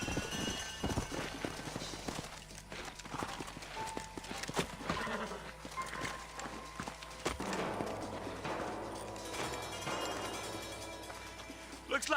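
Horses' hooves clip-clop in Red Dead Redemption, a busy run of hoofbeats at close range that goes on throughout, mixed with snorts and other game sounds at moderate loudness.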